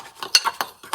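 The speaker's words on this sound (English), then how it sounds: "Then get a fork and" A fork clinks and scrapes against a bowl while mixing sugar with a little water, giving quick close taps and scrapes in an irregular rhythm, quiet and with no talking.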